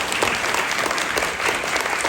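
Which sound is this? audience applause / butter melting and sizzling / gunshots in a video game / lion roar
audience applause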